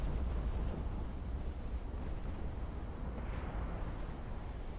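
Torpedo hits explode against a warship in Ultimate Admiral Dreadnoughts, a dense, quiet low rumble of blasts rolling on continuously without a clear break.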